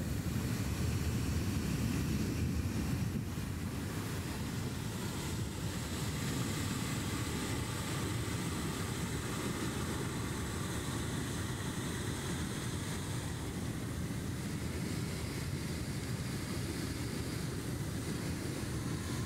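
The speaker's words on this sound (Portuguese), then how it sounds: "Barulho forte da água aí." Water rushes and roars continuously over a dam in Rio Grande do Norte, Brazil, a loud, dense, unbroken torrent with no voices.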